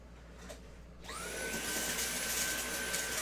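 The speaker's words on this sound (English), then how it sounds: "Hey, where'd you get that vacuum from?" A vacuum cleaner switches on about a second in after a quiet stretch, its motor whine rising in pitch and settling into a loud, steady drone near the workbench.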